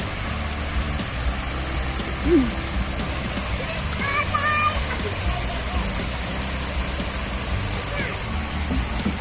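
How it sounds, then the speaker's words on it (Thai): A garden waterfall pours in a steady, full-bodied rush that fills the whole clip, with a few faint chirps and distant voices now and then. "นี่น้ำตกสวยมากเลยนะคะ"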